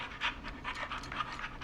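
A dog pants close by in rapid, steady breathy puffs that repeat throughout, with no voices.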